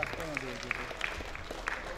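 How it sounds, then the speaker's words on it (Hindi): At a comedy poetry gathering, guests are welcomed with applause from the crowd, heard under a voice speaking over it, with some sharper individual claps standing out. "आप पुरजोर तालियों से उनका भी इस्तकबाल करें।"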